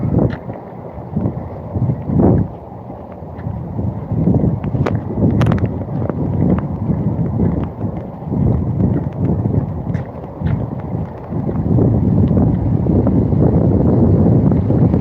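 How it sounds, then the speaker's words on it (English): Strong wind buffets an outdoor microphone in steady, loud low rumbling gusts that swell and surge throughout, with a few faint thumps and rustles mixed in. "Can you hear the wind? It is kicking."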